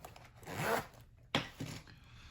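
A Pan Am zipper pouch being zipped, two quick close rasping pulls separated by a short pause, alone with no talk.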